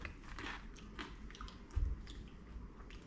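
Crunchy bite into a crisps and chips buttie on crusty bread, a single loud crunch near the middle of the clip over faint background chewing and rustle.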